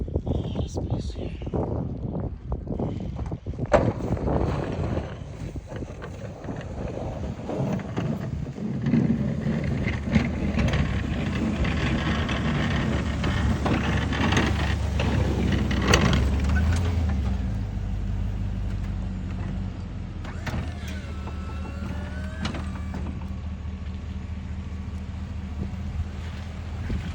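A snow plow works right in front of a parked car: heavy engine rumble with scraping and clunks of snow being pushed, sometimes nearer and louder, with wind buffeting the microphone and occasional squeaky mechanical whines.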